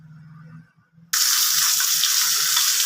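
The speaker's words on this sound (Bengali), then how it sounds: "কড়াতে তেল দিয়ে দিয়েছি, তারপরে মাথাটা রুই মাছের মাথা ওটা দিয়ে করব। মাথাটাকে আগে ভেজে নিচ্ছি" A rohu fish head drops into hot oil in a wok after a quiet moment, bursting into a loud, dense, continuous sizzle that holds steady at close range.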